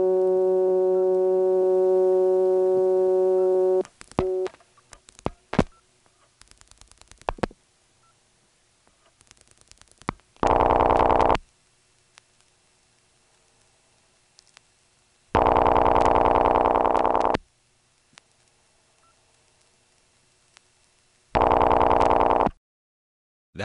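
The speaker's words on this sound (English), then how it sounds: "Here's getting a Homer number ringing" A call to a Homer, Georgia number on an XY telephone exchange: a steady held tone, then a run of switching clicks, then three loud bursts of ringing separated by silences.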